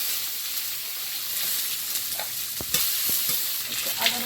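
Whole cumin seeds and chopped onion frying in a pan, a soft steady sizzle with occasional sharp taps and scrapes of a spoon against the metal in the later part.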